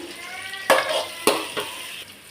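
Onions sautéing in a pan while poori channa masala is cooked, a steady close sizzle broken by two sharp scraping stirs and a softer third, with no talking.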